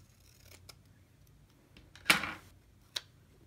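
Scissors snipping through a sheet of planner stickers, a few soft clicks followed by one sharper cut and a final snip, close and quiet with no talking.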